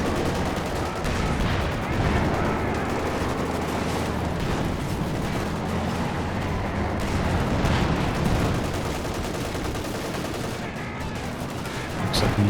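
Dense, continuous battle din in the video game Company of Heroes 2: flak base fire and bazooka shots crackle and thump amid steady explosions and gunfire, with a commentator speaking faintly underneath.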